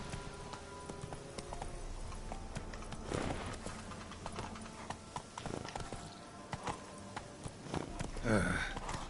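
Roach the horse's hooves clip-clopping in The Witcher 3, an uneven run of hoof strikes under ambient game sound, with a brief snort or sigh near the end.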